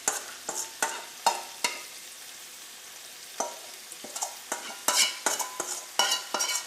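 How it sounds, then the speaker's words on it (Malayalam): Chicken and masala are stirred and fried in a pan: sharp, close scraping strokes in irregular bursts over a faint, steady sizzle. "ഈ മസാലയും ചിക്കനും എല്ലാം കൂടിയിട്ട് നമുക്ക് നന്നായിട്ടൊന്ന് മുരിച്ചെടുക്കാം"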